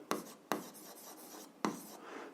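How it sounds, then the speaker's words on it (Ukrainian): Pen strokes scrape across paper during algebra homework: three sharp scratchy onsets, each trailing into softer writing, close and fairly quiet. "Записуємо перша дія"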